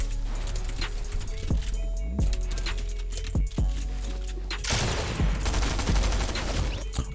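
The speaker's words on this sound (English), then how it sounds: "It's a terrible striker pump shot." Striker pump shotgun blasts in a Fortnite-style creative map, several sharp, loud booming shots spaced irregularly over constant game noise, followed by a denser burst of gunfire toward the end.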